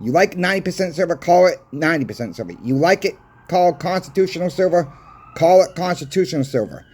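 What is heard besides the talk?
No everyday noise stands out behind the speech.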